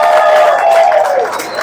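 A brief burst of crowd applause and cheering greets a punk musician at a local venue event, loud and close, with clapping and voices blending into a bright, ringing wash for under two seconds.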